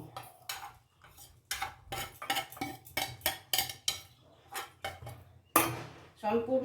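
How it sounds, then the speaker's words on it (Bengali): Batter ingredients tipped into a bowl in a home kitchen, a series of soft clinks, taps and scrapes of utensils against the bowl at a steady pace, with a voice talking quietly in between. "ব্যাটার তৈরি করার জন্য আমি এখানে একটা বোল নিয়ে নিয়েছি"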